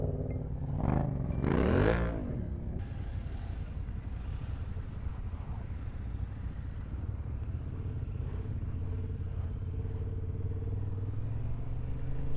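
A group of 21 adventure and dual-sport motorcycles riding on gravel, heard as a steady engine rumble with a brief rising rev near the start, then a continuous drone as the bikes move along.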